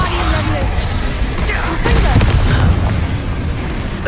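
Reducto spell blast in Hogwarts Legacy, a booming burst with rumbling low impact and scattered debris, loud and close, with a voice calling out over the effect.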